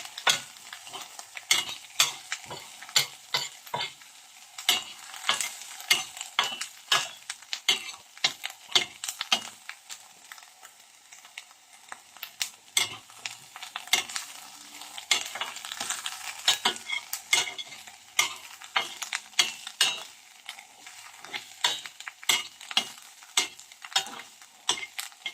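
Onions stir-frying in a pan for noodles, a constant sizzle broken by rapid, irregular scraping and tapping of a utensil against the pan, close and fairly loud, with no talking.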